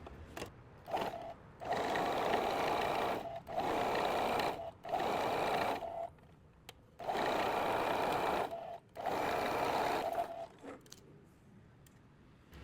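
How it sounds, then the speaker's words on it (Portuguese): Sewing machine topstitching a folded fabric strip, running in several short steady bursts of rapid whirring separated by brief pauses, close and clear with no talking. "E agora eu vou fazer um pesponto bem fino aqui, pertinho dessa minha dobra."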